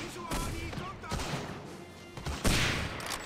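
Bursts of gunfire in the World War II shooter game Hidden and Dangerous 2, with loud shots and rapid volleys breaking out over game noise while a player talks.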